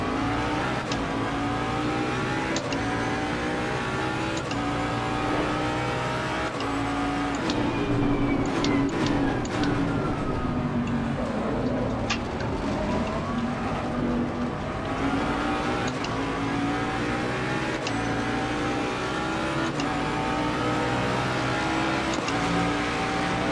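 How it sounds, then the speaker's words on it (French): A Mercedes race car engine drones steadily in Assetto Corsa Competizione, its tone rising and falling with gear shifts and revs throughout, loud and continuous with no talking. "Allez, la petite Merco, là, on roule."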